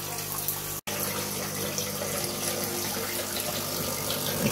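Water runs steadily out of a DeLonghi Magnifica S coffee machine during descaling, a continuous close trickling and splashing flow like a tap, broken by one brief cut of silence.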